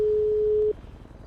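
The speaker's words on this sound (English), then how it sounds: "Presume your ringtone? How do I answer it?" In the game GTA 5, a phone gives a single steady electronic tone lasting under a second, clear and level, before it cuts off to quiet background.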